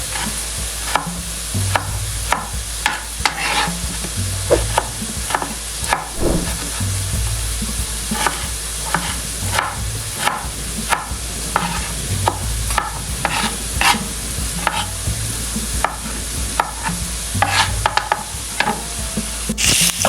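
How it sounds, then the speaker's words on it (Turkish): Steady oil sizzle as hot and red peppers fry in a pan, with frequent scraping clinks of a utensil stirring, close and continuous throughout. "bir yandan da biberlerimi böyle yağ koydum. Kızarması için acı biber, kapya ve kırmızı kırmızı"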